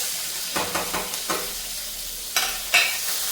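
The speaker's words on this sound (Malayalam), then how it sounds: "ഇനി നമുക്ക് നമ്മുടെ പച്ചമുളക് വട്ടത്തിലരിഞ്ഞും കൂടെ നമുക്ക് വറുത്തെടുക്കാം" Sliced green chillies fry in hot oil while being stirred for a mango and ginger curry: a steady sizzle broken by several sharp scraping stir strokes, close and without talk.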